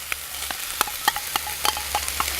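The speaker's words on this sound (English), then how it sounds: "Okay, let's get the bacon in as well." Bacon frying with a steady sizzle in a pan during camp cooking, with scattered sharp crackles and pops and a few stirring scrapes over a low background hum.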